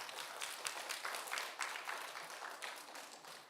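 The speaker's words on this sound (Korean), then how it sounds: "감사 영광의 박수 한번 주십시다." Applause from a church congregation during a Sunday morning service, a fairly faint wash of scattered clapping that goes on steadily for a few seconds with no one speaking over it.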